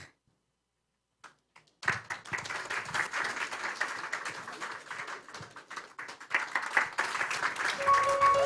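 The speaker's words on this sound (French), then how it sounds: "Est-ce qu'on peut applaudir à nouveau les enfants?" A church congregation at a children's service applauds after near silence, a sudden swell of steady, fairly close clapping that keeps going and grows slightly louder toward the end.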